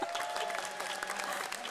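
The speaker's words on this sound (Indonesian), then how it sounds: "kita berikan tepuk tangan untuk Najwa Shihab." A crowd applauds for Najwa Shihab during a televised 2008 Lampung regional election quick-count event, with quieter, somewhat distant clapping that stays even throughout.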